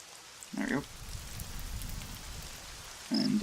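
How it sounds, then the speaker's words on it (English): Rain patters steadily in the TerraFirmaCraft mod of Minecraft. It forms a soft, even hiss, and short bursts of game sound or a voice break in at the start and end. "And I just have to wait for that rain to run out."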